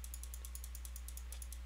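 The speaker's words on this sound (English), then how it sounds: "You can hear me just clicking frantically." Rapid, frantic mouse clicking during combat in Minecraft, a quick steady run of faint, sharp clicks over a low hum.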